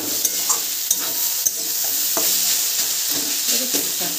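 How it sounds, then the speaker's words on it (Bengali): Kalmi greens (water spinach) frying in a pan, with a steady sizzle and hiss and repeated scraping knocks of a spatula stirring, close and loud, with no talking. "এই দেখো শাকটা কেমন ভাজা ভাজা হয়ে গেছে"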